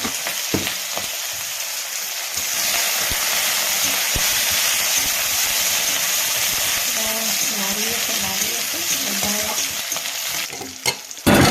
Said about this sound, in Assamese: তাৰপিছত দিলোঁ পিঁয়াজ দি দিলোঁ। এতিয়া ভালদৰে ফ্ৰাই কৰি ল'ম।